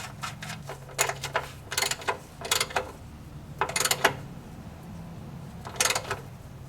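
A ratchet snugging an oil drain bolt back into a Corvette, heard as several short bursts of quick clicking separated by pauses, close by and fairly quiet.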